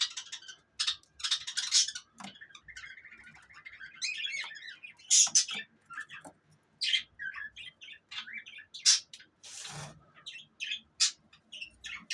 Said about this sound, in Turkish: Golden Finch gökkuşağı ispinozları.